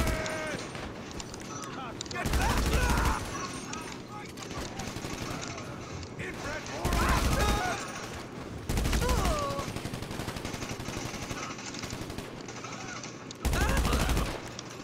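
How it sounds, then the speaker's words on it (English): Shotgun blasts ring out in GTA Online, several loud booming bursts spaced a few seconds apart over a continuous backdrop of game noise and chatter, with a person talking throughout. "they have shotguns now"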